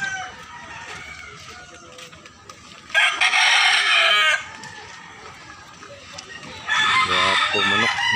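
Two loud green-legged rooster crows ring out close by, with hens clucking and someone talking quietly in the background between them, in Consolacion, Cebu.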